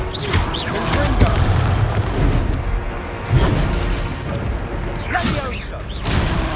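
Confringo fire spell blasts in the video game Hogwarts Legacy land as repeated booming explosions with crackling bursts, several hits spaced a second or two apart amid game combat noise.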